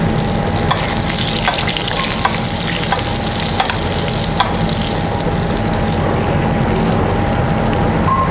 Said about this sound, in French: quand on respecte la chaleur et la température du beurre, on a vraiment une belle mousse bien noisette qui vient nourrir la viande pendant la cuisson